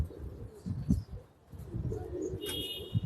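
Male pigeon of a fancy breed, kept among pet pigeons, gives soft low cooing in short repeated pulses, close by, alongside faint chirps and light background noise.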